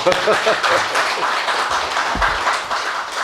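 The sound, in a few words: audience applause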